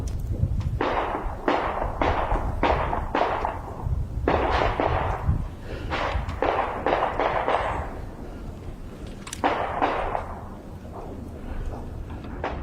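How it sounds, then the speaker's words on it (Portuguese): Repeated sharp gunshots ring out near an abandoned school, a dozen or so loud cracks in irregular bursts over steady background noise, some firing close together in quick clusters. "ele ouviu disparos de arma de fogo bem perto dali"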